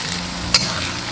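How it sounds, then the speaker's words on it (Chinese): Shallots sizzle in rendered pork fat in a wok as grated radish goes in, a continuous close frying hiss with a single bright metallic clink midway. "炒出香味过后，下入萝卜泥"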